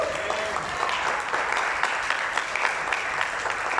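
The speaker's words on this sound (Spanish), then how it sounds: "¿Cuánto le aplaudo, Señor?" A congregation applauding at a church service, a steady, moderately faint patter of many hands clapping throughout with no talking.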